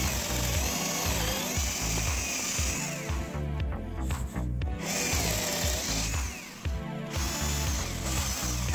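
A DEXTER cordless drill-driver in drilling mode runs continuously and loudly at close range, its motor whine dipping and surging a couple of times as it bites into material.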